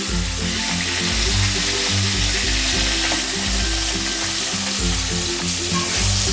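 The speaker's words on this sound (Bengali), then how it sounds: "নিয়ে বেগুনটা আমি দিয়ে দেবো বেগুনটাও ভেজে নেবো" Loud, steady sizzling and crackling of small whole brinjals frying in hot oil, close up and continuous, with occasional stirring sounds and no voices.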